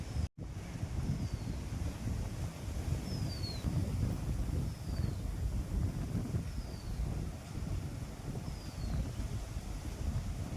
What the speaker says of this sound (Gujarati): એટલો મસ્ત પવન આવે ને બહુ જ મસ્ત